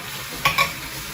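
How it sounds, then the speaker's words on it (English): Lo mein noodles with cabbage dropped into a hot oiled pan for beef lo mein, a steady sizzle broken by two quick scraping stir bursts in the middle, close and without talk. "noodles are going in"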